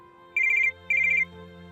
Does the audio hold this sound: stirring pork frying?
no